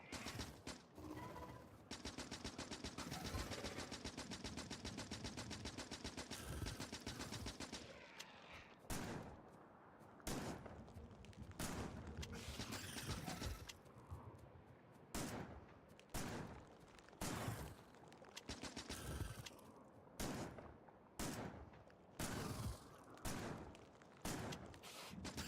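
Automatic gunfire from weapons in the video game Factorio: a dense, continuous volley for several seconds, then a steady run of short, sharp bursts separated by brief gaps, loud and close.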